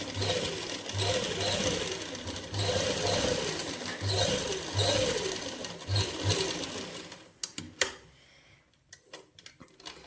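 A sewing machine runs in quick, steady bursts while stitching a winter suit, then stops and gives way to a few scattered clicks and handling noises nearby.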